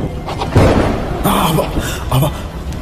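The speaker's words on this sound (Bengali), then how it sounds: "আবার বাজ পড়ল।" Thunder clap sound effect in a Bengali horror audio story: several deep, rumbling booms rise and fade in quick succession, loud and close.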